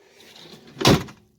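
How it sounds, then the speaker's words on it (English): A 1950 Mercury car door shuts once, a soft solid thunk after a brief rustle of movement, close up and alone. "Door shut easy."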